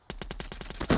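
SKS rifle in Call of Duty Mobile firing a rapid burst of about nine evenly spaced, punchy shots, loud and close, ending in a denser blast.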